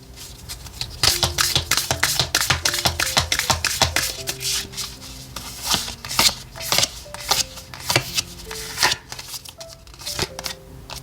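Oracle cards being shuffled and drawn in a weekly tarot reading, a dense, loud, close flurry of riffling and snapping card edges with brief pauses, no voice over it.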